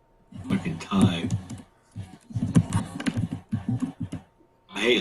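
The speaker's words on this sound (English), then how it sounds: "I hate laptop keyboards." Clicking keys on a laptop keyboard come in bursts of rapid typing with short pauses, close and fairly loud, with people talking over it.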